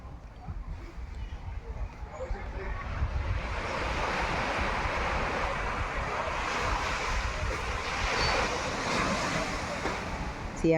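Ocean surf washes onto the shore of Koh Samui near dusk, a steady broad roar of breaking waves mixed with gusting sea wind buffeting the microphone, continuous and fairly loud throughout.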